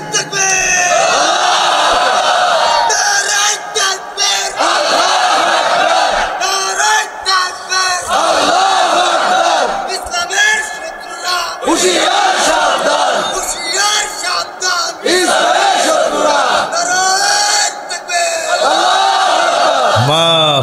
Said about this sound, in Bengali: কি সুন্দর তাকবীর দিয়েছে যুবক মানুষ